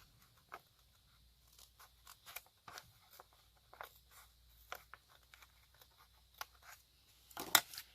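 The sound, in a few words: scissors cutting rough edge of junk journal paper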